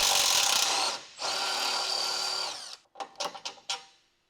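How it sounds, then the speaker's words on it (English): An electric impact wrench with a 17mm short socket spins out the rear lower control arm bushing retaining bolt on a Nissan Versa, with two long, loud whirring runs close by, followed by a few short bursts. "Using the 17mm wrench with the 17mm short socket and electric impact wrench, remove the rear lower control arm bushing retaining bolt"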